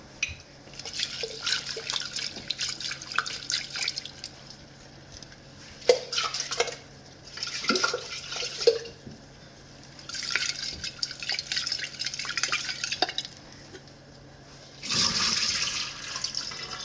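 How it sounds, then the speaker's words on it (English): Bean sprouts rinsed under a running kitchen tap, splashing water in several bursts separated by short pauses and drips, close by, with no voices. "So let me just rinse these, and then we will handle those."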